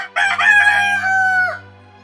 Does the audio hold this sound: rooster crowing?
yes